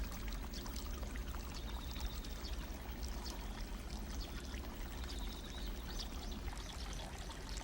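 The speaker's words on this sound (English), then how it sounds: "A continuous stream of spring water is piped right into a basin, so fresh water is always available." Spring water piped continuously into a basin makes a steady, faint trickle and splash, unchanging throughout, with soft outdoor background and no voices.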